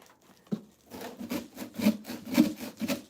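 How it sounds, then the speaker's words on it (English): A hand saw cuts through a sugar cane stalk in rhythmic back-and-forth strokes, roughly six rasping pulls growing louder up close, with no talking. "I'm going to see how it goes sawing this thing."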